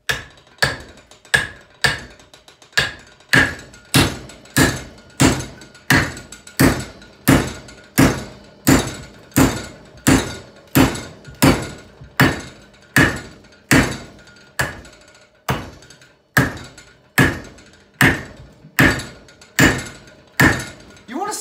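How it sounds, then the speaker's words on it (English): Heavy hammer blows strike jatoba hardwood in a steady, evenly spaced rhythm, dozens of loud sharp knocks close by with brief ringing after each. "I'm gonna start hammering on it."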